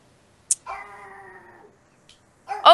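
A pet dog gives a short sharp yip, then a sustained tonal whine lasting about a second, followed after a pause by a louder bark or yelp at the end, close by and otherwise quiet.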